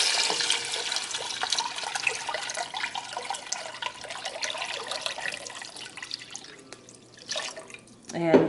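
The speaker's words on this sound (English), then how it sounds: "So our vegetables are all softened and it's time to add the chicken broth." Chicken broth and four cups of water poured into a soup pot of softened vegetables, a continuous splashing and gurgling pour close by that fades near the end, with people talking over it.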